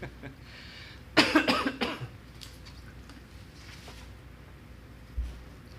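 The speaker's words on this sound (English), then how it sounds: "Got a cough." At a board of education meeting, a sharp burst of several coughs in quick succession, close and loud, then quiet room tone with a faint thump near the end.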